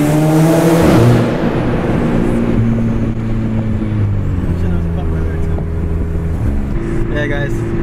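A car with a catalyst downpipe exhaust passes at speed on a highway, a loud engine roar that swells and fades into steady road drone, with talk over it.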